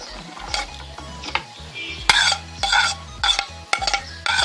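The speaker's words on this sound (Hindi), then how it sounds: "चॉपर में मैं चिकन ऐड कर रही हूँ, साथ ही हम प्याज ऐड कर देंगे।" A kitchen food chopper works through chicken and onions in a series of short, uneven bursts of whirring and clattering blade noise, close up, with brief pauses between pulls and no talking.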